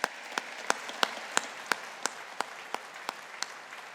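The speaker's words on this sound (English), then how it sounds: "a big round of applause for these achievements" Audience clapping at a university engineering faculty graduation ceremony, a thin, sparse round of applause with distinct individual claps landing at a slow, even pace, fairly near, over a soft wash of further clapping.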